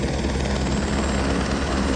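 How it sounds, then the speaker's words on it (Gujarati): Helicopter arriving at the Kedarnath helipad, a loud, steady rotor and engine roar filling the whole stretch at close range. "બીજું હેલિકોપ્ટર આવે અને પાછા બેસીએ"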